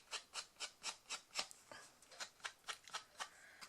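Card edges are inked with Vintage Photo Distress Oxide ink, in about a dozen quick rhythmic rubbing strokes that are close and soft, with no voice.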